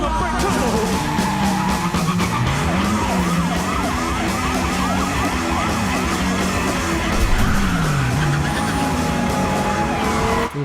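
A Subaru WRX getaway car skids loudly amid a dense chase scene, with wailing emergency sirens, screeching tires and racing engines all blended together and sustained throughout.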